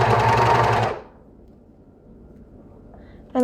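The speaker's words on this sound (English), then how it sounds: "I'm going to overlap my serge stitches just by about 1/2 inch" A serger sewing machine stitches a stretch fabric hem, a loud, fast, steady mechanical whir that runs for about a second then stops, leaving near silence before a brief sound at the end.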